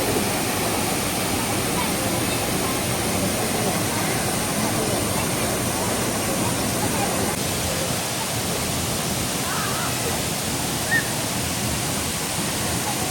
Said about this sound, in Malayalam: കേരളത്തിലെ തൃശൂർ ജില്ലയിൽ സ്ഥിതി ചെയ്യുന്ന ഒരു വെള്ളച്ചാട്ടമാണ് തൂമാനം വെള്ളച്ചാട്ടം